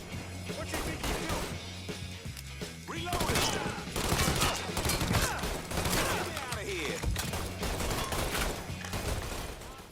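Bursts of gunfire rattle through a Mafia III firefight, with repeated shots and crashing impacts at close range over game background sound and occasional voices.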